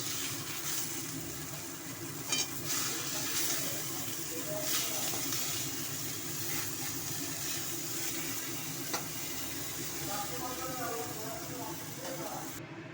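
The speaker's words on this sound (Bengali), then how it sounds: "মাছগুলো ভাজতে দিয়ে দিচ্ছি একে একে।" Bhola fish frying in oil in a pan, a continuous close sizzle and hiss with occasional spits and crackles, while a voice speaks intermittently over it.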